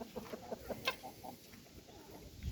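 Soft, scattered clucking from several chickens and chicks nearby, short irregular calls over a quiet background.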